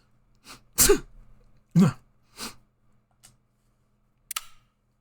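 Several short, explosive sneezes burst out close by in quick succession, followed by a brief sharp click in an otherwise quiet room.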